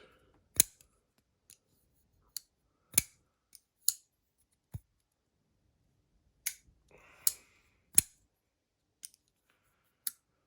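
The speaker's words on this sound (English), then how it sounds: "It's titanium frame lock, so you get some good tactile clicks and clanks when it closes." Sharp metallic clicks and clanks from a titanium frame lock folding knife as its blade is closed, about a dozen crisp isolated snaps spread unevenly across the stretch, close and clear against silence.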